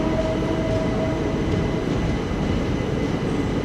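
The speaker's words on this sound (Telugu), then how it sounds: "తాడిపత్రికి మన ట్రైన్ ప్లాట్ఫామ్ 1 అయితే వచ్చింది." Express train from Vasco-da-Gama, Goa to Tirupati standing at platform 1 of Tadipatri station, giving a steady, loud low rumble of idling rail cars with a faint whining tone early on, heard without any talk.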